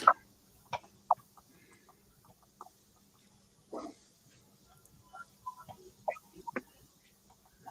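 Chickens cluck in short, scattered calls at a backyard gathering, faint and somewhat distant, with irregular pauses between bursts and a quiet low background hum.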